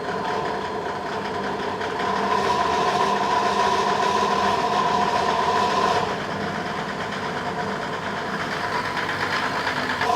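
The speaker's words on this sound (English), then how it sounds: "And I'll give it a few revs just to help it warm up a little." A heavy Mercedes OM606 diesel engine runs loudly, its pitch rising as it revs for a few seconds to warm up, then it settles back to a steady idle.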